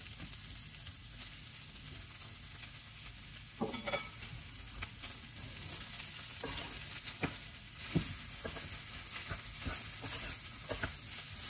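Soya meat sizzles steadily on a grill, a constant close hiss and crackle with a few sharper pops and the clink of utensils as pieces are flipped.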